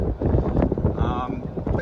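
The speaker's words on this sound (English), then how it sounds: "Don't mind the wind, it's always windy" Strong wind buffets the microphone outdoors in a residential neighborhood in Summerville, South Carolina, in a steady, loud roar with gusty rumbling throughout.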